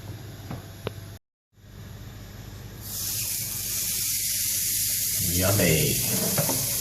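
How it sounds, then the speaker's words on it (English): Onions cooking dry with no grease on a George Foreman grill with the lid shut, a brief quiet patch and then a loud, steady hiss of sizzling that builds and holds close up. "Lay your onions out, no grease, no anything, just on the George Foreman"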